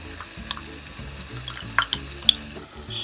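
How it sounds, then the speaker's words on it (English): Masala goes into golden-brown onion in a hot pan, sizzling steadily up close while a spoon scrapes and stirs in repeated short strokes, with a few sharp crackles. "The onion has become golden brown, and now we add all this masala."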